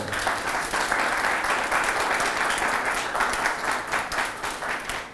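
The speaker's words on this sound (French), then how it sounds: "Je vous demande de vous applaudir très très très fort." A studio audience on a radio show in Côte d'Ivoire applauds loudly, with dense, sustained clapping lasting several seconds.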